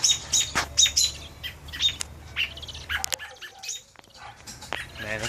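Baby bird chirping in repeated high, thin, urgent calls while a snake tries to swallow it alive, the cheeps coming in quick bursts close by with brief pauses and some background rustle.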